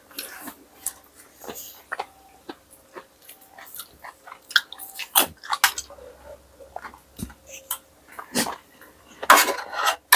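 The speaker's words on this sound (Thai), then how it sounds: "เคี้ยวไปงึบกึบกึบ" Close, wet chewing of a jelly-like congealed blood salad, soft squelchy bites and mouth noises repeating irregularly, with occasional louder crunchy bursts and no speech.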